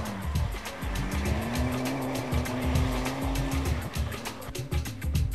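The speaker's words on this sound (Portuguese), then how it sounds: "José Vieira, ao volante do Volkswagen Golf TDI" A Volkswagen Golf TDI rally car drives a muddy stage at a 2009 rally near Porto, its engine revving hard and steady with rising pitch, tires churning and skidding, close and loud throughout.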